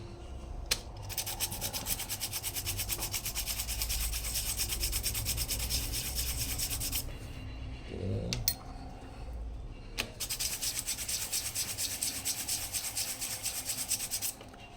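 Sandpaper works a mold for air gun pellets, producing a long, steady close rasping rub that breaks off briefly twice before resuming.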